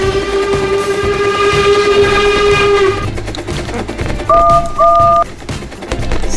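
Train whistles in a Thomas and Friends video game: a long steady whistle blast over rumbling, rolling rail noise, then two short separate toots after a pause, all fairly loud and close.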